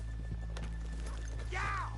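Horses stopped off a main street, with faint hoof clops and shuffling against a low background hum, then a short, clear whinny near the end.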